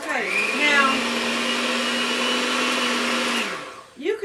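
An electric hand mixer beats sweet potato pie custard with a loud, steady motorized whine that holds evenly for a few seconds, then cuts off, leaving a brief clatter.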